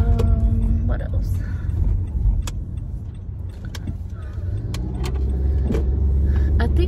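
A low, steady engine rumble fills the inside of a parked car, with a voice talking over it and a brief jangle of keys.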